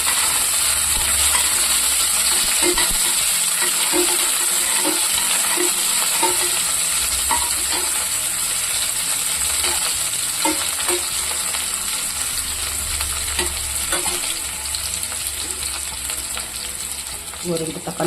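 Shallots fry in hot oil with cumin seeds, a loud, continuous close sizzle with scattered clinks and scrapes of a stirring utensil against the pan throughout, and no voices.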